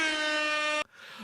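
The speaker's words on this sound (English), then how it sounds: "Banging away at that poor air horn." One loud, sustained air horn blast blares, then cuts off abruptly, leaving near silence.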